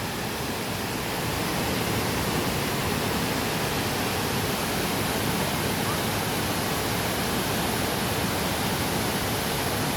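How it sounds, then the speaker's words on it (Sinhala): Ratna Ella waterfall at Hasalaka, Sri Lanka, cascading over rock in a loud, unbroken roar of falling water that fills the whole scene without variation. "රත්න දිය ඇල්ල පුංචි පුංචි දේ ධාරාවල් එකතු වෙලා ලස්සනට කඩාන වැටෙන කිරිම කිරිපාට මාරම ලස්සනයි"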